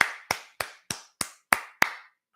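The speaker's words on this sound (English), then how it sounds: "let me give you a round of applause" Seven sharp, evenly spaced handclaps from a single person on a talk show, close and distinct, each ringing briefly before the next, then stopping.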